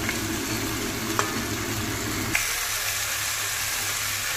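Crab sizzles steadily in a hot pan during Bengali home cooking. The frying is close and continuous, with a couple of sharp clicks. The low crackle thins out partway through.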